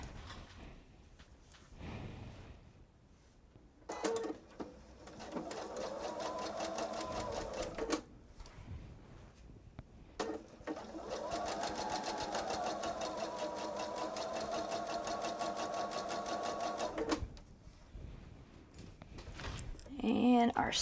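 A sewing machine stitches quarter-inch seams on a two-bottle fabric wine tote in two long steady runs of rapid, even whirring with pauses between, and a voice talks briefly in the quieter gaps.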